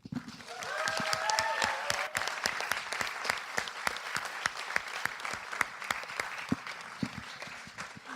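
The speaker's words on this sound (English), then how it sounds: "And I will ask you to a round of applause for Alaya, Kualo, Brad, and all the team of" An audience applauds after a student project presentation, a sparse, fairly quiet clapping with distinct individual claps and a voice briefly heard near the start.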